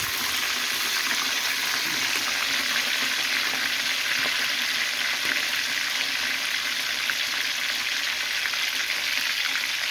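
Salted fish fries in a pan with a steady, dense sizzle and crackle of hot oil that holds at an even level throughout.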